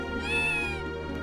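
A cat meows in the video game Breath of Fire IV, a single drawn-out tonal mew over a steady background music bed, clear and moderately loud.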